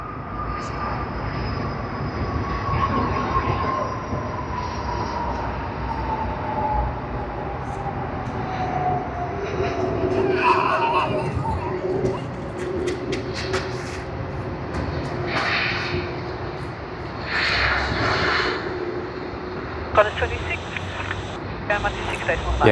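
Qantas flight QFA 26 from Tokyo Haneda, registration VH-QP, lands at Sydney Airport on runway 16 right. It makes a broad steady jet roar with a slowly falling engine whine that fades as the aircraft rolls out.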